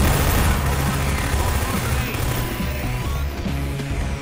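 Dense, continuous gunfire and explosions in the video game Half-Life 2, loud and sustained throughout with a shouting voice mixed into the din.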